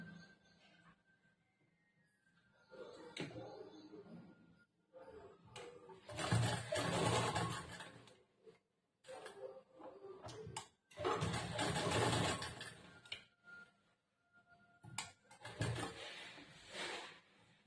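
Sewing machine stitching piping onto a blouse, running in several bursts of a few seconds each, with short pauses and quiet handling of the fabric between runs.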